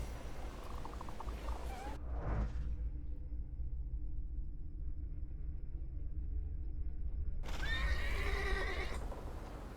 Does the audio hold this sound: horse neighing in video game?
yes